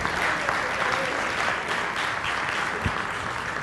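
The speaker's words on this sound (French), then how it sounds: "C'est bon, on l'applaudit ensemble" A church congregation applauds together in steady, dense clapping that fills the room, with a voice faintly audible beneath the applause.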